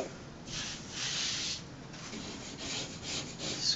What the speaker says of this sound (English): Scrape off any little bumps.